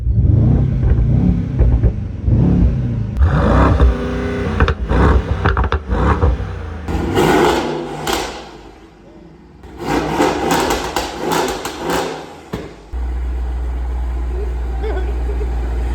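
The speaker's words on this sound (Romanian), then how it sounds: "se aude foarte, foarte tare" Loud revving bursts from a 700 hp Mercedes-AMG GT63s with straight-pipe exhaust, sharp rises and falls in the middle, mixed with music and talk early on, then a steady low drone at the end.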